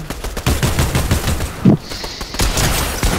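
Rapid bursts of automatic gunfire in a Fortnite ranked match rattle in quick succession, loud and close, with a brief pause broken by a single heavy thump before firing resumes.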